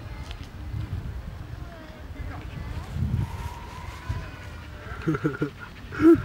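Siberian Husky panting steadily outdoors, with people talking over it throughout and a few louder bumps near the end.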